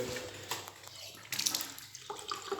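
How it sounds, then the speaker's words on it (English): Water runs from a tap in the toilets of an abandoned factory building, a faint, thin trickle and splash with a few louder bursts, heard alone. "The water still works."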